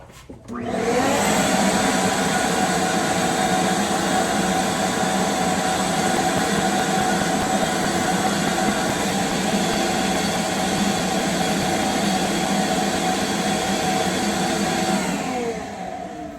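A Ridgid 4 gallon shop vac switching on and running steadily while cleaning dust from a high ceiling, a loud continuous whooshing roar with a faint whine that holds level before easing near the end, no talking.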